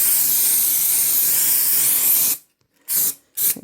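A spray bottle mists fabric laid out for ironing during a purse-making project, giving one long steady hiss followed by two short separate bursts, close and loud.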